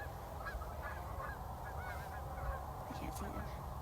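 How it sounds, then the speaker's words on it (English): Geese honk repeatedly in the distance, a string of nasal calls over a steady outdoor background hum. "There's some geese."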